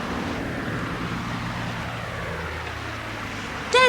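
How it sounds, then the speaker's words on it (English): An aeroplane drones steadily overhead in an audiobook dramatisation, a broad continuous engine rumble that slowly fades, with a brief bright tone at the very end. "That's not thunder, Lucienne. That's an aeroplane."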